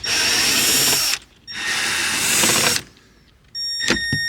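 A power tool whirs in three close, loud bursts while removing 7mm bolts from the dash panel of a Jeep Wrangler JK, with brief pauses between runs and clicky tool noise at the end.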